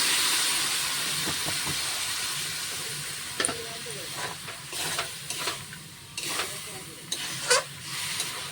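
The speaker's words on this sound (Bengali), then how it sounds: "এবার জল দিয়ে দেবো।" Water poured onto vegetables frying with small prawns sets off a loud steam hiss that slowly fades, followed by scattered scraping and knocking stir strokes close by.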